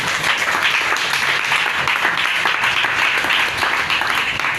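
A church congregation applauding during a service, a dense, sustained patter of many hands clapping at an even level throughout.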